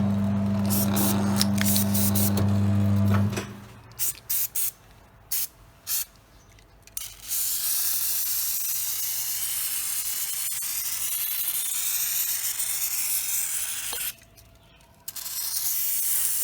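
Bursts of hissing spray from a homemade spray tool used for removing and fitting tires, several short puffs, then a long steady spray that stops briefly and resumes, close by with no talk.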